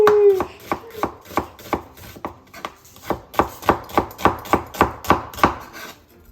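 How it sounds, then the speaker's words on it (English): A big knife chops onion on a cutting board in rapid, steady strikes, about a dozen sharp close thuds in quick succession, loud and alone. "are you familiar with the correct onion cutting technique?"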